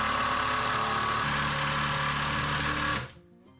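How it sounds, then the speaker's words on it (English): Power driver sinking a screw to secure a piece of a workbench drawer, a loud rattling buzz held for about three seconds, dropping in pitch partway through, then stopping abruptly. "I'm just going to put that secure with a couple of screws"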